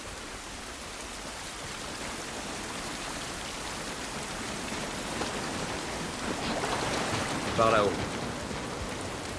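Rain falls outdoors in the video game The Last of Us Part I, a steady, moderately loud hiss of drops that swells slightly near the end, with a brief spoken line over it.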